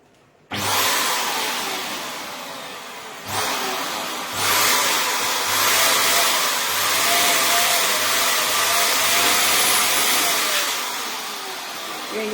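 A foil balloon is inflated with a loud, steady motorized whir that starts abruptly, pauses briefly a few times, and then keeps running.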